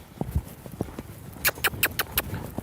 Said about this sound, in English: Without kicking him, we're loping off.